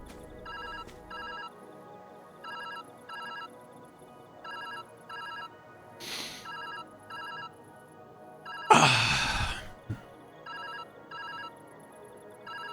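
A telephone rings in the puzzle video game Viewfinder, a steady repeating electronic double-burst pattern at moderate volume, broken by a couple of loud whooshing rushes of noise partway through, with no talk.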